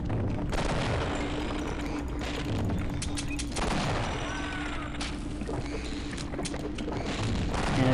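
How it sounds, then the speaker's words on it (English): Double-barrel shotgun blasts fire in Half-Life, loud booming shots over dense, constant game noise, with a voice talking underneath. "just gonna take out the shotgun and continually double barrel blast her sack"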